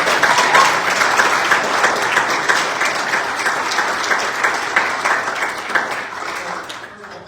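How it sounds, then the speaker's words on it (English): Warm audience applause for student entrepreneurs at a pitch competition, loud at first and slowly thinning into scattered individual claps near the end. "Can we give a round of applause for"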